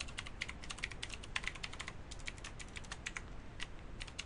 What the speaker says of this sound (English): I'll just put Joe, and I'll choose a password.